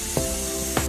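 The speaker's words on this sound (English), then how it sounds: "Grab your foam air filter cleaner and spray it evenly across the entire surface of the" Foam air filter cleaner sprayed onto a foam air filter, two short close aerosol bursts about half a second apart over a steady hiss, with no talking.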